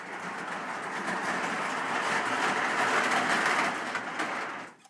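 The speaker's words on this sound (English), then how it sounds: "that train comes through on the main" A model train on a layout rumbles steadily past along the main line with a broad, continuous roar that holds for several seconds, then cuts off abruptly at the end.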